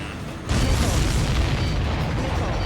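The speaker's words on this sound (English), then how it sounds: "Did you see that explosion?" A supply ship blows up after a missile strike in the combat flight game Ace Combat 7, a sudden loud boom that bursts in and then rolls on as a dense, sustained rumble.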